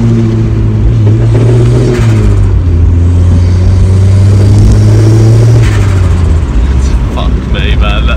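Turbocharged Mazda MX5 accelerating hard, a loud sustained mid-range engine drone with rising revs over about eight seconds, heard from inside the car with someone talking over it.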